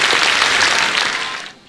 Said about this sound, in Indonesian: Kita berikan tepuk tangan langsung untuk Coki.